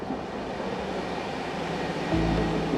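Train rolling on the Vienna to Budapest line, a steady broad rumble of wheels and carriage noise heard from inside, growing louder and deeper near the end, with no voices.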